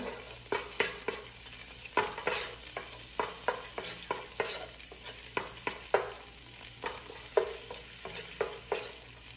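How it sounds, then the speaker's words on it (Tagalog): Garlic fried in olive oil while being stirred, a soft steady sizzle broken by repeated scraping and clacking strokes of a utensil against the pan, close and fairly quiet. "At ngayon, lalagay ko na itong half nitong garlic. Mix ko lang siya."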